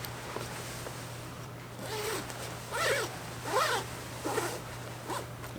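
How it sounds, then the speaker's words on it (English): Several short zipper pulls close a camping hammock, rasping in quick bursts that grow louder toward the middle, over a steady low hum. "You zip this bad boy up."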